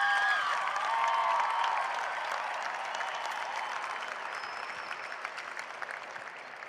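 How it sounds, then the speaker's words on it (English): Sustained applause from a large graduation audience honoring the Ironwood High School class of 2016, a steady wash of many hands that starts loud and eases slightly, with no talk over it. "Ladies and gentlemen, please applaud the class of 2016."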